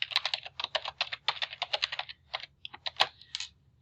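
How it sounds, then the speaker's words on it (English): A password is typed on a computer keyboard: quick, irregular runs of light key clicks at close range, with a brief pause before a few final taps. "And then retype that password"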